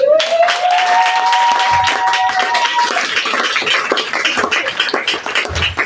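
A church congregation claps and cheers in praise, sustained and loud throughout, with a high sustained tone or whistle rising in the first few seconds before settling into steady massed applause.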